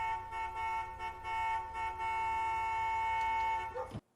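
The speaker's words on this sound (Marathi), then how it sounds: "गाडी दिसच्या पयलीं गाडयेचो हॉर्न आयकपाक येता" A large car's horn sounds loud and continuous for about four seconds in a scene from the film Roma, holding a steady blaring tone before cutting off abruptly.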